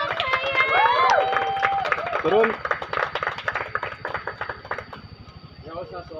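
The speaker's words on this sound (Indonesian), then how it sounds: "Tepuk tangan," Group clapping and cheering on a film set, rhythmic claps under excited shouting voices and chatter, fading toward the end.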